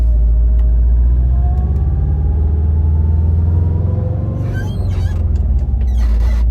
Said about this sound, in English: This will literally be the very first driving this car.